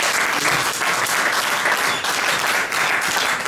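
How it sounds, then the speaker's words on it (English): A conference crowd in Ghana gives a round of applause for Brother Bomani, a loud, continuous roar of many hands clapping close by without pause. "let's give Brother Bomani a round of applause"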